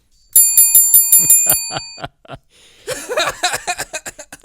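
A bell rings in two quick runs of repeated bright, sharp strikes, close and loud, with a brief pause between the runs and no talking over it.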